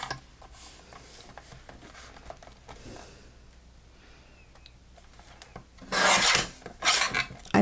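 A tool trims a thin sliver off craft material with soft scraping and rubbing at first, then two loud, close rasping cutting bursts near the end.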